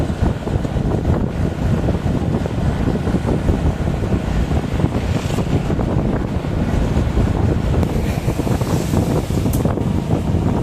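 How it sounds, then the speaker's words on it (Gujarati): Strong wind buffets the microphone in a loud, continuous rumbling roar, with no voices heard. "ઠંડી હવા આવી ગયો"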